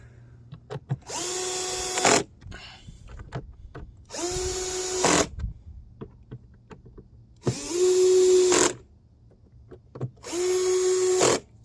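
A power drill on a low torque setting backs out screws from the air filter cover of a Sprinter van's V6 turbo diesel engine, four separate whirring bursts of about a second each with quiet pauses between.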